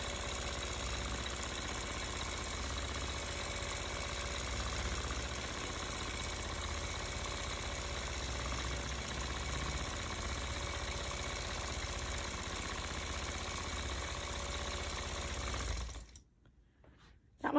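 Long-arm quilting machine stitching a disappearing nine-patch quilt, a steady buzzing motor hum with a fast regular needle rhythm running continuously up close, then stopping abruptly near the end.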